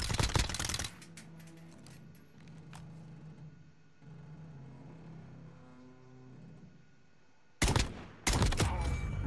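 SKS rifle gunfire in Warzone, with sharp bursts of loud shots at the start and near the end around a quieter stretch of game engine and ambient noise.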